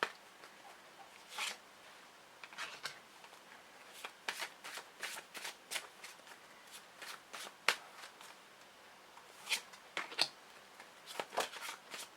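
Tarot cards are shuffled close up in quick irregular bursts of riffling and snapping, quiet and alone with no talking.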